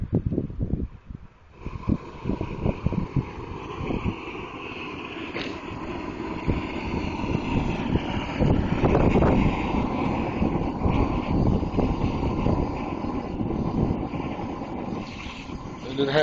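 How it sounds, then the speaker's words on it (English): Gusty outdoor wind buffets the microphone with a loud, rumbling roar that swells and eases, near a double propane burner. "Wind is kind of blowing out here"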